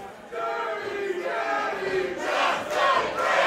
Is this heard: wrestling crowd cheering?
yes